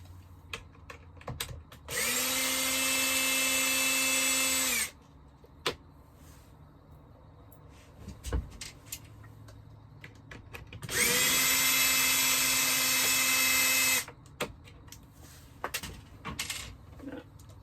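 A cordless power driver whirs twice in roughly three-second bursts, backing out trim screws on a sailboat cabin headliner, with small clicks and taps of screws and hands between bursts in a quiet interior.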